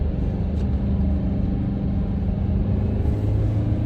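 Car engine idling in a dual-control training car during a driving lesson with the clutch held down, a low steady rumble heard from inside the cabin, with no talk.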